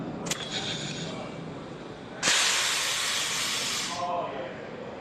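A pneumatic spring-return actuator on an air-operated ball valve vents with a loud, steady burst of hissing air lasting about two seconds, after a short click, with faint background noise around it.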